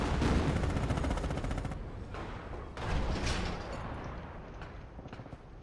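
In the Company of Heroes game, a machine gun rattles in dense rapid bursts, followed by scattered single shots and thuds as the battle carries on, loud and close throughout.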